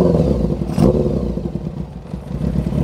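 Honda CB400 converted to a bobber, a 1990s engine fitted with velocity stack intakes, idles loudly and close with a slightly uneven, lumpy rhythm and an intake whoosh.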